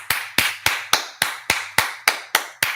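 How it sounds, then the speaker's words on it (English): Nine evenly spaced sharp claps ring out close and distinct, closer to one person's rhythmic hand clapping than a full audience, marking winners at a verse competition; a low steady hum sits underneath. "Let's give them a hand clap."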